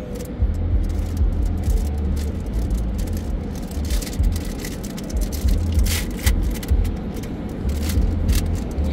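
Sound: automatic car wash running with triple foam

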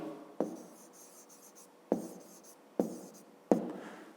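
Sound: writing numbers by hand

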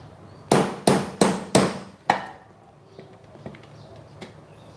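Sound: hammering pegs into camping table

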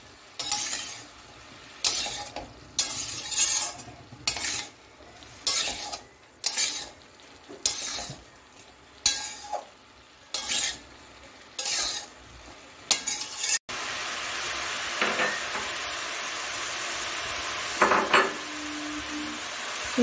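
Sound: stirring vegetables with salt and turmeric in pan

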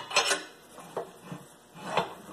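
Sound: tire spoon working the tire bead on a rim clamp machine

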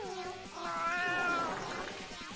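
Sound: cat meowing in the video game Raise a Floppa 2

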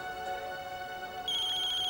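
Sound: phone ringtone from a client calling

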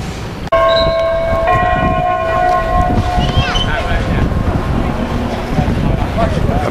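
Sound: bell tower ringing, Shanghai Bund

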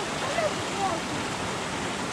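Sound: stream flowing under a bridge in Padley Gorge

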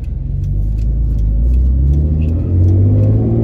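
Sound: 2010 Hyundai Genesis manual car engine revving

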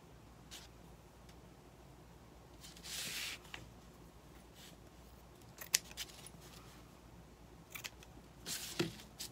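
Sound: scissors trimming tails on a decorated whisk broom

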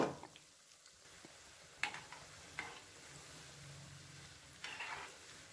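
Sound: frying snack in oil on medium flame

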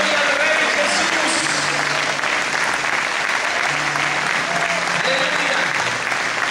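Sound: congregation applause in church

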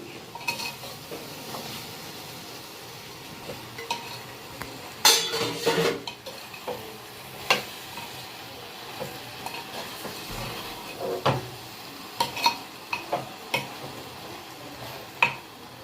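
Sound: stirring raw mango pieces and prawns in a curry pot

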